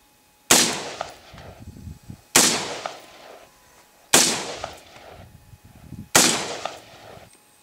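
Four loud gunshots ring out outdoors in Montana at roughly two-second intervals, each a sharp crack followed by a rolling echo that decays before the next shot.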